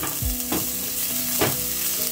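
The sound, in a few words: onions and garlic sizzling in hot oil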